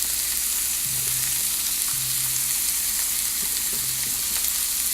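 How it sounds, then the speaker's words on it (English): Shrimp seasoned with salt and pepper sauté in an even layer in a pan for a quinoa salad, giving a steady close sizzle with faint thumps in the background. "All right, so shrimp is gonna saute."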